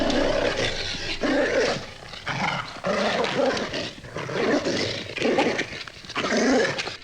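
A dog growls and whimpers in a tense horror-story scene, a steady close-up stream of low snarls and whines without pause, with no talking.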